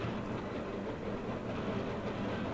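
A freight train rolls past a trackside spot with a steady, dense rumble and rattle of wagons, constant and fairly close for the whole stretch, with no talking.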